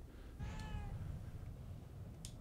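A cat gives a single drawn-out meow, faint and close, with a soft background hum and no talking.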